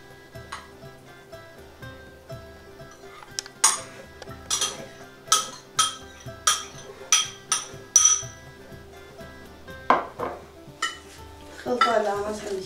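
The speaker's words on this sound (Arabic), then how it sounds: "غنشدو الروز ونخلطوها مع الكفته ديال السرجيل" Cooked rice being stirred together with sardine kefta in a bowl, a spoon clinking against the dish in a steady series of sharp taps and scrapes, close and fairly loud with no talk.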